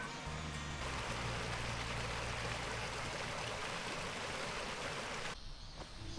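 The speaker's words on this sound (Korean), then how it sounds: "계곡의 물소리가 내려가는 길에도 시원하게 들렸어요." A valley stream beside a forest trail rushes steadily with a close, continuous wash of flowing water, with faint tonal music briefly at the start.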